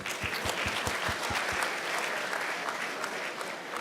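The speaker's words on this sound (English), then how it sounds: "So a big round of applause for our sponsors" An audience at a British Bangladeshi awards programme in London applauds the event's sponsors, a dense steady patter of many clapping hands with a few louder claps near the start, sustained throughout.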